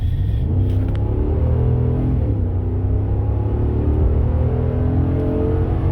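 A 2017 Dodge Ram 5.7L 4x4 pickup engine revs up from about 1,000 RPM and accelerates out of a construction zone, a loud continuous rumble with rising tone, heard from inside the cab.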